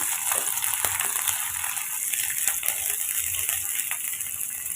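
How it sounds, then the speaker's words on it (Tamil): Chopped onion and green chilli sauté in hot oil for tomato chutney, giving a soft, continuous sizzle with scattered light scrapes and taps of stirring. "வெங்காயம், பச்சை மிளகாய் சேர்த்துக்கோங்க. சேர்த்துட்டு ஒரு 2 நிமிஷம் நம்ம வதக்கி விட்டுக்கலாம்."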